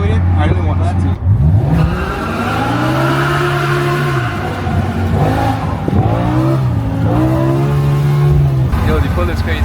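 A BMW M5 with a V10 engine accelerates hard, the engine note climbing through several rising sweeps with brief drops between gear changes, loud and close from inside the car.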